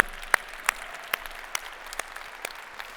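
Light, sparse clapping from a small audience at a live debate, a handful of distinct sharp claps standing out over a quiet background patter.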